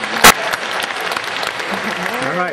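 A crowd claps steadily throughout, with a loud sharp crack early on and voices calling out over the continuous applause.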